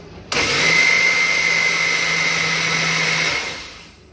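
Loud, steady whirring of a mixer grinder grinding rice batter with water for idli, running on its own for about three seconds before spinning down.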